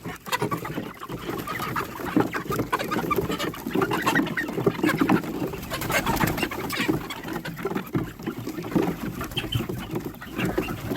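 A flock of chickens clucking and murmuring together, a busy, continuous chatter of overlapping calls close by, with no talking.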